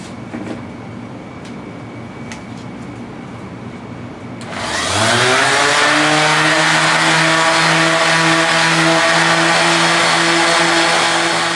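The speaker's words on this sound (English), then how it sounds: "Stick with the rotary sander." A rotary sander starts up at close range and runs steady and loud against a painted guitar body, taking the finish down to raw wood, with a quieter stretch of handling before the motor kicks in.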